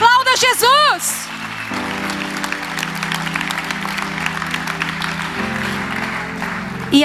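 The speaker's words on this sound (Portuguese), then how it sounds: "Aplauda Jesus." A congregation claps during a church sermon, a steady mass of clapping under sustained organ or keyboard chords, with a voice calling out briefly at the start.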